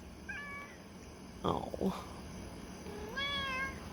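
A stray cat gives a few short, rising meows. One comes early, a longer drawn-out one follows near the end, and a brief exclamation from a person cuts in between them outdoors.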